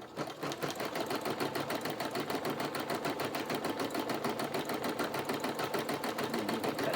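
Sewing machine stitching embroidery onto toilet paper, a fast steady mechanical rattle of needle strokes running continuously and close for the whole stretch, with no talking.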